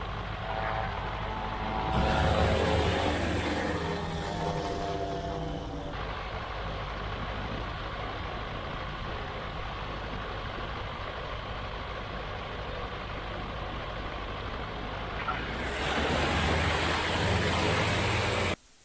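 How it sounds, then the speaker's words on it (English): Small light airplane engine roaring steadily through a takeoff run, loud and close throughout, swelling at the start and again near the end with no talk over it. "Golf Tango Mike taking off 29, departing to the north."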